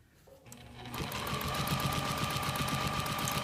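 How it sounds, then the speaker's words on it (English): A sewing machine stitches quilt binding, starting up softly and then running in a steady, fast, close mechanical whir of rapid needle beats, with no talking. "I'm stitching it 3/8 of an inch from the raw edges"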